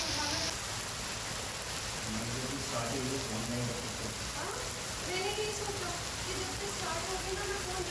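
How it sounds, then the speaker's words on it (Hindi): Heavy monsoon rain pours in Bhiwadi, Rajasthan, a constant loud hiss of downpour throughout, with faint background tones and murmurs drifting beneath. "भिवाड़ी में भी झमाझम बारिश का दौर देखने को मिल रहा है"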